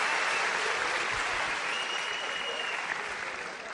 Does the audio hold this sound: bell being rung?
no